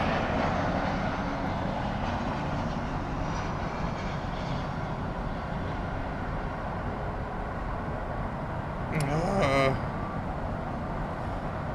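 An Aloha cargo aircraft at Miami Airport makes a continuous loud engine roar, with people talking faintly under it and a brief chirping burst near the end.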